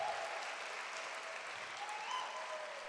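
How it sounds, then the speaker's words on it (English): An audience at an evening talk applauds a speaker after her introduction, a dense, steady wash of many hands clapping that holds evenly throughout, fairly distant and moderately loud. "give her a round of applause."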